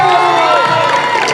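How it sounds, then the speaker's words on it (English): Cheering, whooping and shouting from a crowd of children and families at a school graduation ceremony, loud and steady, with a voice heard in the mix. "Give them a round of applause."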